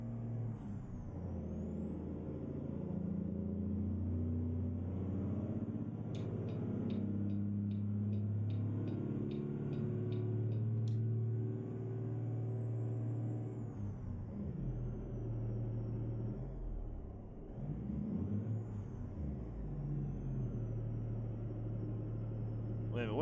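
A Peterbilt 388 wrecker truck engine drones steadily as the rig pulls onto the highway, a loud continuous low rumble with a high whine rising above it and brief air-brake hisses. A voice speaks over the engine.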